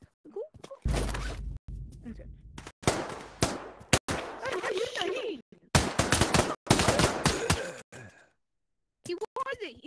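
Gunfire in the VR shooter game Pavlov: bursts of rapid, crackling shots in several clusters, heard close and loud, with excited voices talking among them.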